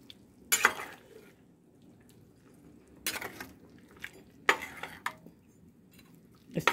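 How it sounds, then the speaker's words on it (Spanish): A spoon stirs chicken with Maggi seasoning juice in a lidless pot over a wood fire. The scraping and clinking come in several separate bursts, close by, with quiet stretches between them and no talking. "Y le vamos a echar el jugo Maggi. Y ahí lo voy a ir revolviendo."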